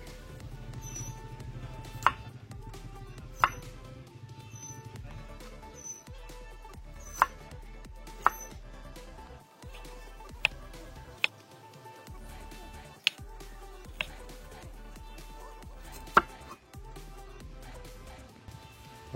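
Onion is chopped on a board for a dry fish curry: sharp, separate knife taps land at uneven intervals over a soft, faint kitchen background.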